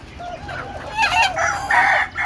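Native chickens on a farm cluck and a rooster crows in brief, close calls over light background noise.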